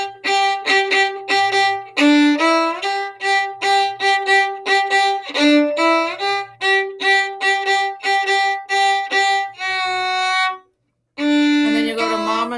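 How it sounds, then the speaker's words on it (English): Violin playing the full Baby Shark tune with shifting, sliding between positions rather than jumping; a steady stream of short bowed notes with a held note and brief pause near the end, solo and close. "If I'm playing the whole Baby Shark tune, it sounds like this."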